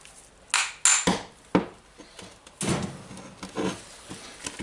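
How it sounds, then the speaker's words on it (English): A hammer punches a part of a Hitachi DH26PB hammer drill during a rehaul, giving a few sharp metallic taps and clinks, close and fairly quiet, spaced irregularly with brief pauses. "now I will just hold it like that and punch with the hammer"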